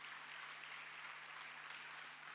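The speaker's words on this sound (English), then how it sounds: "Can we give a round of applause to all the award recipients?" Audience at a Pearson BTEC HND convocation clapping for award recipients, a faint, even, continuous patter of many hands heard from a distance, steady across the whole stretch with a low background hum.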